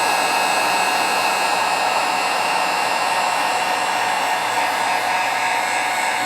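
A heat gun blows a steady, loud, even hiss of hot air across a Liquid Kato polymer clay bracelet, holding constant throughout with no speech.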